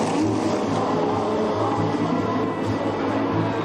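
Several Formula One cars pull away together at a race restart. A dense, continuous roar of engines at moderate distance holds steady throughout without clear individual passes.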